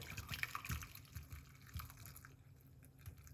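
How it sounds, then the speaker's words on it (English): Quiet ginger lemon tea splashing and dribbling as it is poured, a soft trickling with small drips, close by and fairly faint. "we're gonna pour out this now."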